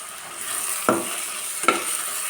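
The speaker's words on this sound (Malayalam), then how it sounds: "ഇതിട്ടിട്ട് നന്നായിട്ടൊന്ന് വഴറ്റി കൊടുക്കാം" Ginger, garlic and green chili paste sautéing with onions for chicken curry: a steady sizzle in the pan with two sharp spatula scrapes, close and clear.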